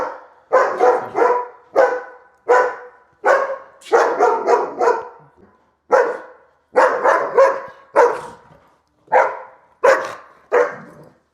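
A reactive dog barks defensively, repeatedly and loudly, sharp single and double barks in an irregular series with short pauses, close by and without talk.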